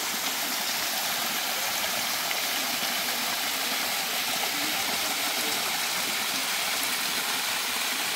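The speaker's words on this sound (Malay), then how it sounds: "Ada air juga." A stream flows at the start of the Kazumi Trail on a forested hill hike, producing a steady, dense rush of water that stays constant throughout with no speech.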